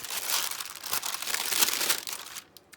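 Stiff paper crinkles and crumples in close, busy handling during craft work on a junk journal, loud rustling bursts running for a couple of seconds before tapering off, no voice.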